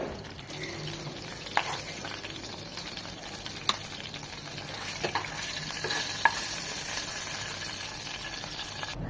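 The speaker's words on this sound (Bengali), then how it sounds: "আলুটা একটু মাছের সাথে ভেজে নেব" Potato frying alongside boal fish in leftover oil, a steady close sizzle broken by repeated stirring scrapes and light knocks against the pan.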